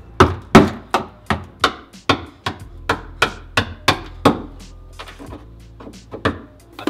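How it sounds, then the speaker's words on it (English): Sharp, close strikes drive a flathead screwdriver while stripping out the interior of a 240SX drift car, about fifteen hard knocks in a fairly steady rhythm with faint ringing tails, then slowing and softening toward the end. "That's how you correctly use a flathead"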